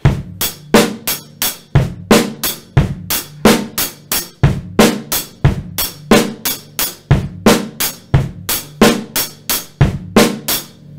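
A drum kit plays the steady repeating beat of a song, with punchy bass and snare hits and crisp hi-hat strokes, loud and close with no talk.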